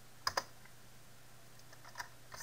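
A few sharp keystrokes on a computer keyboard while programming in C# with ASP.NET, two quick clicks near the start and a couple more later, faint and close with no talking.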